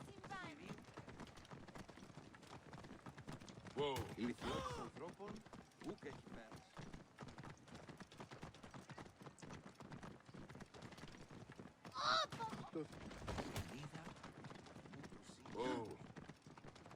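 Horse hooves clip-clopping in a steady rhythm while riding in the video game Assassin's Creed Origins, mixed with in-game sounds and a voice talking over them.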